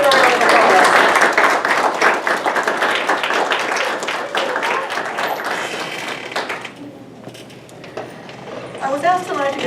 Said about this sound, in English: Come on, CUNY alums, let's give them a round of applause.